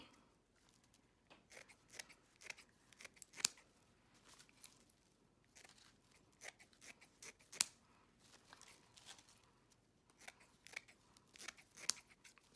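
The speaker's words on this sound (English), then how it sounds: "I'm gonna cut that one a little bit short." Scissors snip through orange paper while making an Easter swag, giving quiet, scattered crisp cuts and rustles in an irregular rhythm, close by with no talking.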